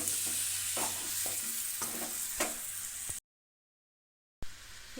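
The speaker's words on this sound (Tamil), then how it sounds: "நான் வந்து அதுக்கு தேவையான அளவு கல் உப்பு சேர்க்குறேன். இதை வந்து நல்லா கிளறி விட்டுறலாம்." Chicken being stirred with rock salt in a hot pan, with repeated scraping strokes over a steady frying sizzle for about three seconds, then a gap of silence before the sizzle returns.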